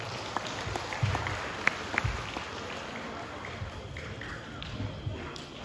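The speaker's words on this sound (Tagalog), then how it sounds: "salubungon sa masigabong palakpak." Warm applause greets a monsignor at an interdistrict church fellowship musical night, soft and somewhat distant clapping from a crowd, steady with a few sharper claps standing out.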